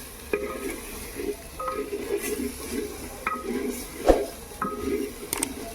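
Spices and chicken frying in a clay pot over a wood fire with a splash of water added, soft sizzling broken by repeated scraping stirs and one sharper knock, with no one talking.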